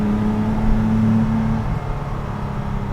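A Porsche 914 restomod fitted with a Cayman engine revs hard with a loud, sustained, booming drone that drops off sharply partway through and settles into a lower, rougher engine note.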